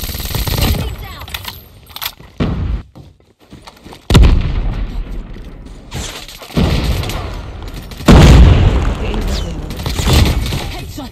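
Gunfire and explosions from the Call of Duty Mobile shooter game, with repeated loud bursts and booms between brief quieter gaps, mixed with talk over the action.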